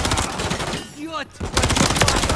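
Rapid automatic gunfire from the Call of Duty: Modern Warfare 3 multiplayer beta, loud and dense bursts with a brief lull in the middle, layered with game voice lines and combat noise.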